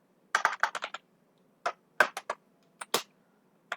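JavaScript code being typed on a computer keyboard: a quick run of close keystrokes, then short separated bursts and single taps with pauses between them, clear against near silence.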